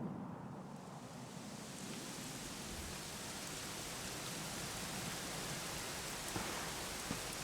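Steady rain falls in the Dragon Quest XI: Echoes of an Elusive Age video game, a soft, even hiss of drops on surfaces that stays constant and faint throughout, with no voices.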